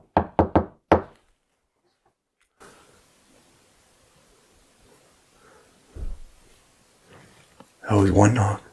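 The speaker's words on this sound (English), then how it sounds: "That was one knock." A single knock sounds in a dark, empty train station at 3 a.m., following several earlier sharp raps. Long quiet stretches sit around it, and a voice follows near the end.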